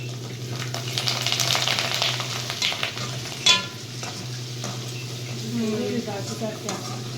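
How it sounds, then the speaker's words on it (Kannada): Sandige, sun-dried fritters, frying in hot oil for a festive Ugadi meal, with a continuous bubbling sizzle, a clank of a utensil midway and scraping stirs close by. "ಸೂಪರಾಗಿ ಸಂಡಿಗೆ ಎಲ್ಲ ಫ್ರೈ ಆಗ್ತಾ ಇದೆ."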